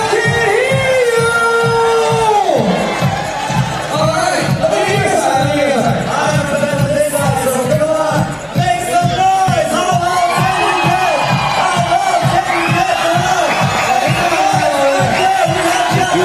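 A crowd roars and whoops continuously at a 3x3 basketball shootout during the 2016 FIBA 3x3 World Tour final in Abu Dhabi, loud and sustained, with voices and other arena sound mixed in throughout.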